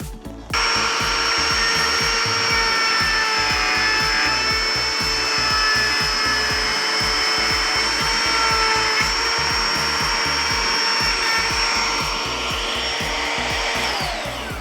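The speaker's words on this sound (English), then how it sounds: "I have the router bit on the door, and you can see there's a gap between this base and the template, and so that's how deep my router is going to cut" A router with a template cuts into a wooden interior slab door, a loud continuous high-pitched motor whine with grinding bite into the wood, running steadily throughout, close up and with no talking.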